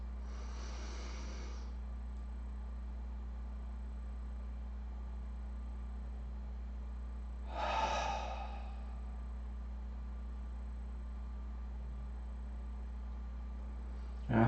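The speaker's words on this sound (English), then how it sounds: "Big inhales, fill up. Nice sighing out, exhales, let go." Two deep cleansing breaths, each a big inhale followed by a long sighing exhale, are soft and airy and spaced several seconds apart over a quiet, hum-filled room during a guided meditation.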